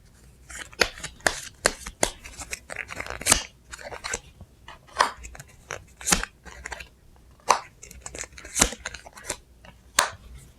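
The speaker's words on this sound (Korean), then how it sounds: "제가 카드 다시 뽑아서 시기 봐드릴게요" Tarot cards being shuffled and drawn by hand, a steady series of crisp, close snapping and riffling bursts with brief gaps, no talk over them.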